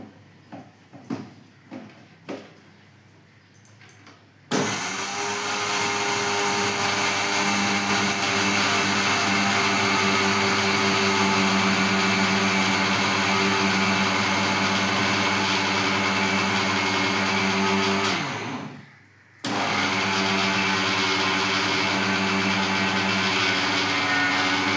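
An electric grinder powders laddu ingredients such as tishi, dates and makhana with a loud, steady whir after a few small clicks, then briefly cuts out and starts again.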